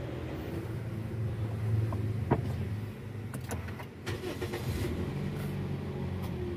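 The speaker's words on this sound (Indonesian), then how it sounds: "sekarang kita coba hidupin lagi mesinnya buat dengerin suara mesinnya guys" A Toyota Vios with a 1NZ engine cranks and catches after a water pump replacement, then settles into a steady, smooth idle nearby with a few faint clicks, no speech over it.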